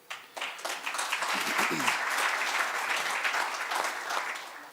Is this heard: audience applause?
yes